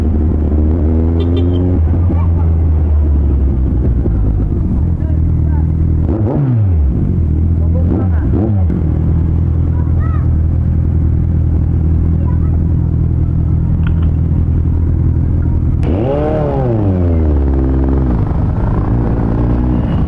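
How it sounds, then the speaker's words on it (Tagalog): Steady, loud engine rumble from a vehicle in road traffic on the route from Baguio to Manila, with a few swelling passes and brief voices speaking now and then. "Traffic, guys."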